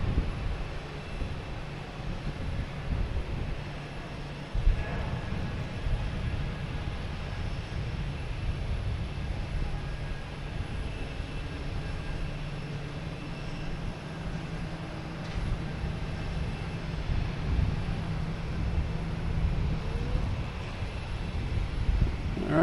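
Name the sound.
JetBlue Airbus A220 jet departing to Buffalo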